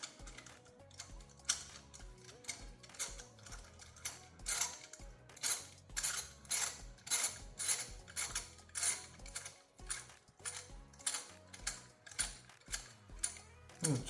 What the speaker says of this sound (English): next we'll remove the spark plug with our 9/16" socket